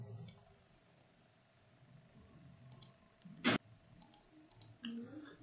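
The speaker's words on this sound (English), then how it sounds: "so after that you need to click on save." A single sharp computer mouse click while saving a setting on a network gateway portal, close and crisp, with faint lighter clicks scattered around it in a quiet room.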